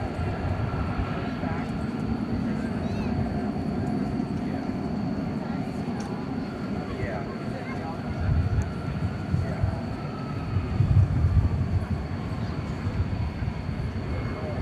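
A Boeing 747-400 airliner taking off from DFW Airport, bound for Luxembourg, makes a broad, distant jet-engine rumble that holds steady and then swells louder partway through.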